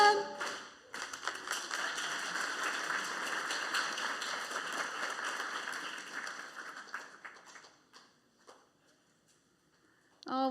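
Warm audience applause at an afternoon building inauguration program after a sung Hebrew song, dense clapping holding steady for several seconds before thinning to a few scattered claps and fading out.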